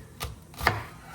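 A knife chops through food on a cutting board in two distinct thuds, the second firmer than the first, close and quiet with no talking.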